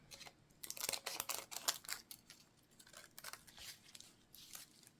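Scissors snip through thin fantasy film, cutting it into strips and then tiny pieces, with a rapid run of close, crisp, papery cuts and rustles.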